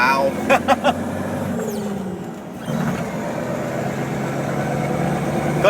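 A show truck with a bonnet and straight exhaust pipes rumbles loudly at close range, idling with a couple of sharp blips, dipping, then settling into a heavy steady drone, with people talking over it.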